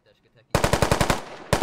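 Automatic gunfire from the video game Squad: a sharp burst of about ten rapid, evenly spaced shots, close and loud, then a brief pause and another shot starting, with faint low voices beforehand.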